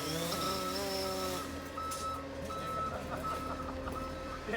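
A concrete truck sounds its reversing beeps, a loud repeating tone for the first part. Then engine rumble and scattered clucking from chickens nearby continue in the background.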